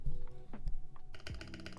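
Keys clack on a Portico prototype mechanical keyboard, including its spacebar, in a quick burst of close, crisp keystrokes with several sharp thocks over a soft background hum.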